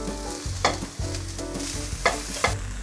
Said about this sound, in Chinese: 把香菜放进来，用余温给它炒至软化